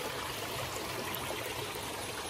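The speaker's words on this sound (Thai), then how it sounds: "อยู่น้ำตกเทินตะเทินดูน้ำ" Water flowing at a low-volume waterfall stream in Thailand, a soft, continuous trickling rush heard steadily and fairly faint with no voices.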